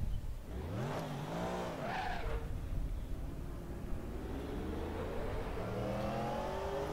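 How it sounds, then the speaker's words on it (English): Callaway Corvette GT race car engine in a racing video game at Silverstone, revving up and down through gears with rising and falling pitch, loud and close, with a brief tire squeal and no talk. "we'll bask in the glory of a Callaway Corvette engine noise"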